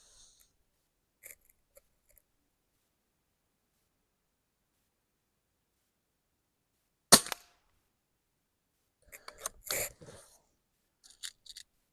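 A PCP air rifle fires a single sharp, loud shot of JSB Exact Heavy pellets, followed by a few softer clicks and handling noises from the gun.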